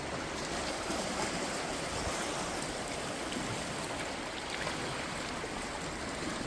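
Steady rushing water flows continuously, a broad even wash of noise that sounds like a nearby stream, with no voices.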